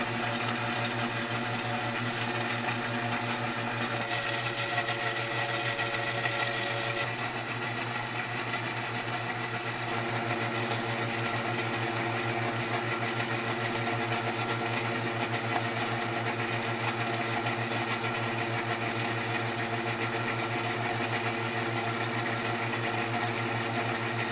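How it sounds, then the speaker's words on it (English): A blender runs at medium-high speed making mayonnaise as oil trickles in: a steady, loud mechanical whir with a high-pitched motor whine runs continuously without pause, shifting slightly in pitch partway through. "So you're gonna start your blender at medium to high speed."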